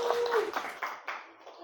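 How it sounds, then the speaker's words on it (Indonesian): Applause from students in a high school math classroom, a short burst of scattered hand claps, fairly faint and fading out within a second or two. "tepuk tangan buat Albila"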